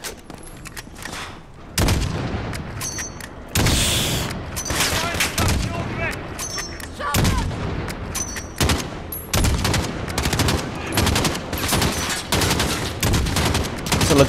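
Rapid bursts of automatic gunfire from Call of Duty: Modern Warfare, loud and close, with sustained fusillades and booms running throughout and little pause between volleys.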